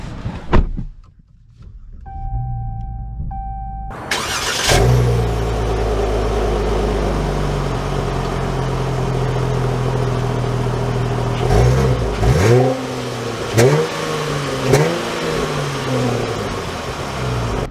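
A 2022 Dodge Charger SXT AWD Blacktop starts up after a quiet moment and settles into a steady, loud engine hum, with a few surging revs near the end as the car pulls away.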